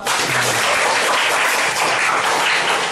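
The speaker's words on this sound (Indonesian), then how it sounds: "Beri aplaus untuk Irfan." Classroom applause at a vocational high school in Samarinda, a dense, even burst of many hands clapping for about three seconds.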